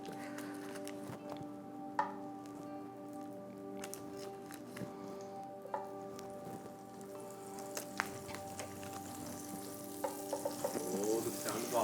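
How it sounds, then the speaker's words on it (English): Pats of butter melt into shallow oil in a frying pan for fried zucchini, a faint steady crackling sizzle with scattered pops that grows slightly busier toward the end, close by and without talking. "Just kind of get that butter melting."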